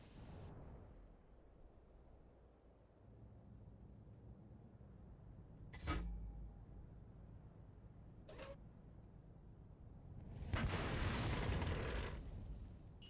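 Artillery fire from a Bison self-propelled gun in the World of Tanks video game: a sharp boom, a second quicker crack a few seconds later, then a louder, longer rumbling blast, with steady battle ambience between them.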